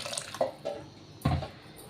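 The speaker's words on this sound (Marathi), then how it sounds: "थोडं पाणी टाकणार आहे मी आता" Water splashes and trickles in a few short bursts close by into a pan of spinach and garlic, with quiet pauses between pours.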